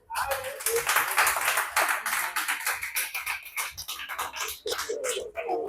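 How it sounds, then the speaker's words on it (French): An audience claps steadily through a comedy show in Cotonou, a dense, sustained patter of many hands that swells early and fades slightly toward the end. "ceux qui disent 24 heures, applaudissez."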